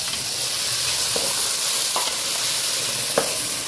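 Tomato puree sizzles and fries in a pan while prawns are cooked, giving a steady close hiss with occasional faint clicks of stirring.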